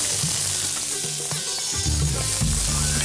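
Chopped onion hits hot oil in a pan for a classical Indian dish and sizzles loudly and steadily, with some clinks and stirring scrapes mixed in over soft background music.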